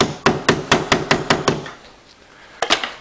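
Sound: hammer tapping a toothpick into a screw hole

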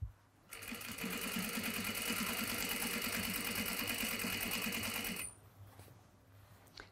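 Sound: sewing machine top stitching denim

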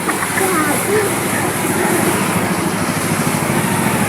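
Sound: strong flood water waves rushing

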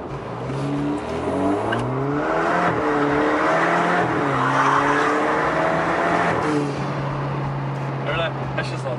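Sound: Alfa Romeo four-cylinder engine revving, straight-pipe exhaust

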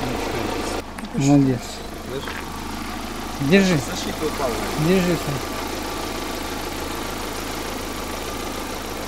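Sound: VAZ 2110 car engine revving and idling

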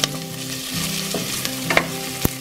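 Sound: celery and garlic frying in a pan

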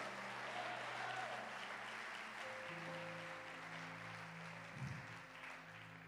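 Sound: church congregation applause

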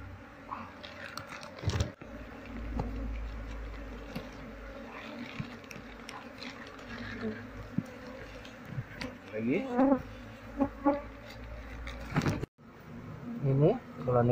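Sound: honey bee colony buzzing inside a car tire

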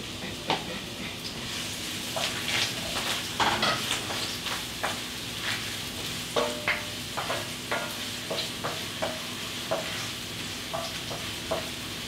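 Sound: onion sizzling in hot oil

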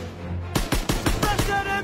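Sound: machine gun fire in Call of Duty WWII video game

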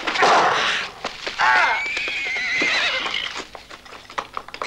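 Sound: horse neighing

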